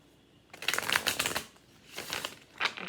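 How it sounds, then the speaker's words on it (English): A deck of tarot cards is shuffled up close, with crisp riffling bursts of cards flicking together and short pauses between the passes. "I'm going to do 2 more shuffles here."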